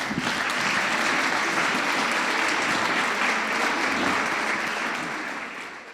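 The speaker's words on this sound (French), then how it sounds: "vous demande d'applaudir Catherine Bradney" An audience at a women's awards evening applauds a special guest with loud, continuous clapping that holds steady for several seconds and then begins to taper off at the end.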